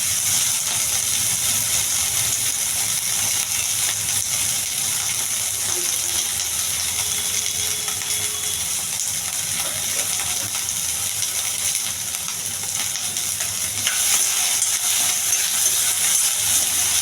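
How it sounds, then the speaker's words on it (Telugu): Ivy gourd frying in a little oil gives a continuous, even sizzling hiss close by, steady for the whole stretch with no voices over it. "కొద్దిగా ఆయిల్, దొండకాయ బాగా వేగాలండి."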